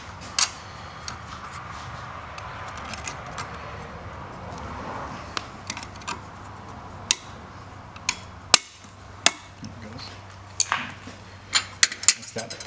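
A hammer and drift tap a snap ring into a turbocharger housing in a workshop, giving scattered sharp metallic clicks that grow more frequent toward the end, under a low hum with someone talking.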